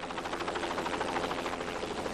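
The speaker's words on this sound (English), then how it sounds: "This private jet Ranger helicopter, piloted by a Vietnam veteran," A private Bell JetRanger helicopter flies steadily, its rotor chop pulsing evenly through a dense, continuous engine roar with no talk over it.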